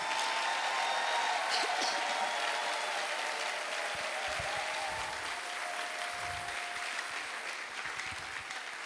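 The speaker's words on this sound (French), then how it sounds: "Est-ce qu'on peut acclamer véritablement Jésus-Christ?" A church congregation applauds to acclaim Jesus Christ, a dense, steady burst of clapping from a large crowd that slowly thins toward the end.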